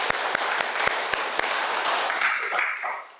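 A church congregation at a Korean Sunday Thanksgiving worship service applauds, with a few sharp individual claps standing out over the steady clapping before it thins and fades away at the end.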